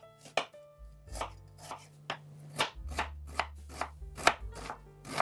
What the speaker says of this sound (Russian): Порежу его мелкими кубиками.